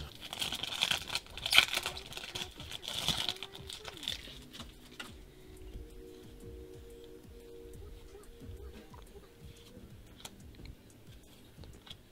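Foil Yu-Gi-Oh Dragons of Legend 2 booster packs crinkle and tear open up close, with loud crackling bursts early that settle into softer handling rustles.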